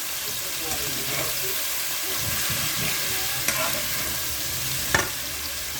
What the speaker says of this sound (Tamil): இப்போ நல்லா கிண்டி எடுக்கலாம்